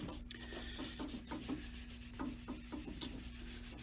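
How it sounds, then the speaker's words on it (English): A cloth or brush rubs and polishes the newly stained leather soles of a Crockett and Jones shoe, quiet repeated scrubbing strokes close by. "I'm now polishing up the soles"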